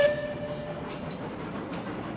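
A train whistle blows in the railroad game Railroads Online: a steady, piercing tone at the start that fades over a low, continuous rumble of rolling rail cars.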